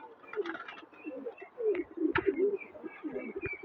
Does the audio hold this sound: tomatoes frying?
no